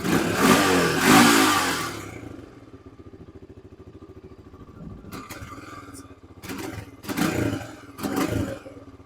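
Older Honda TRX300EX ATV being revived, its engine revving loudly up close in a short burst, then dropping to a rough chugging idle while people talk over it.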